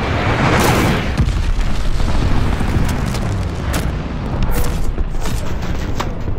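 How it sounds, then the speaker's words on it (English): A glide bomb detonates in Call of Duty: Vanguard Domination multiplayer, a loud rumbling blast that swells early and rolls on as a sustained low roar with scattered crackling debris across the whole stretch. "Enemy glide bomb incoming"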